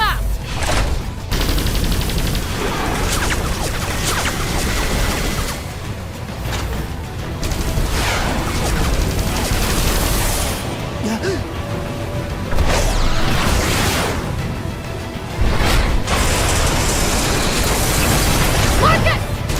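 Missiles exploding amid gunfire in the Xenoblade Chronicles X game: loud, repeated booms and crackling bursts with whooshes, a busy battle din that swells and drops across the span, with shouted voices over it.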